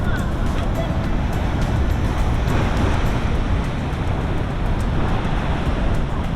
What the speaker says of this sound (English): These waves are crazy coming in.